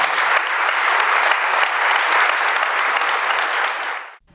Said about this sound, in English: would you give a round of applause for both our guests?